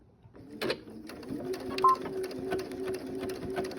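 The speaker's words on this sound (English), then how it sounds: "I take a few stitches forward to hold it, and then I will back stitch to lock it in" Sewing machine stitching quilt binding, running a steady fast mechanical whir with short forward runs and back stitches, close and clear with brief pauses.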